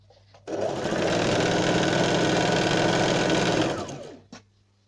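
A sewing machine runs steadily for about four seconds, stitching a kurti's round neckline with piping, its close, continuous whirring motor then winding down to a stop.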